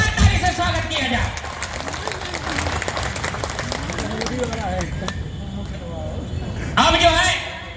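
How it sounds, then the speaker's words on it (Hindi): Loud, sustained applause from a crowd welcoming a politician at a film-scene rally, the clapping spread steadily across the clip and swelling again near the end, with crowd murmur and an announcing voice mixed in. "जोरदार ताली से स्वागत किया जाए"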